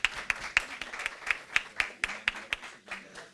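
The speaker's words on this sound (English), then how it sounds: "Let's give all our participants another round of applause." An audience applauds participants at an annual public speaking competition, with scattered, uneven hand claps that stay moderately loud throughout and carry no talk over them.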